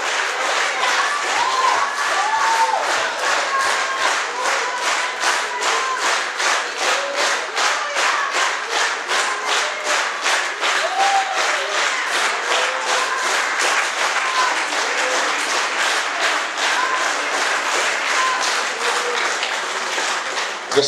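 A church congregation at a seminar in Mykolaiv applauds steadily and loudly for the whole stretch, with dense rhythmic clapping, scattered shouts and voices mixed in, and no clear talk over it.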